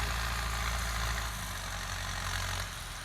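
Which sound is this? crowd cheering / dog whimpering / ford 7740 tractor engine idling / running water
ford 7740 tractor engine idling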